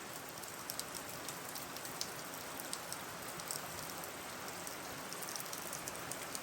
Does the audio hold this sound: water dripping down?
yes